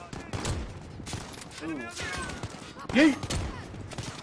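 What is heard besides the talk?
sniper rifle shots in Call of Duty Modern Warfare video game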